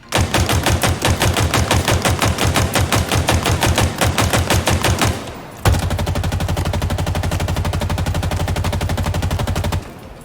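Gunfire in Halo Infinite from an AR and a Sidekick pistol. A loud, rapid string of distinct shots runs about five seconds, then after a short pause comes a dense continuous burst, close and with no talking.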